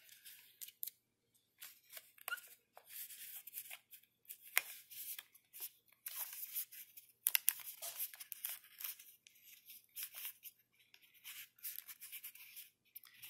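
Adhesive tape being pulled and torn during a paper craft project, heard as quiet, close, crackly bursts of tearing and crinkling that come in irregular clusters throughout, with no talking.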